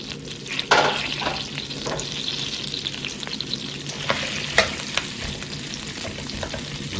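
Brussels sprouts fry in a pan, a constant soft sizzle with scattered pops and a few scraping stirs, close and moderately quiet, with no voices.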